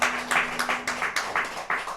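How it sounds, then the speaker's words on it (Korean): A church congregation at a Korean Sunday morning service claps in unison, a loud, close, rhythmic series of about a dozen even beats, with no talking over it. "우리 하나님께 영광의 박수 올립니다."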